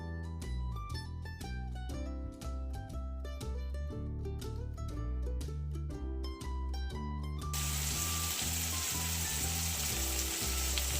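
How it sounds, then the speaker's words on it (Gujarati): Chopped onions and tomatoes fry in a pan for Gujarati-style corn chevda. Music plays first, then a loud, steady hiss of sizzling oil takes over and continues to the end. "2 મિનિટ આ રીતે આમને તળવા દેવાનું"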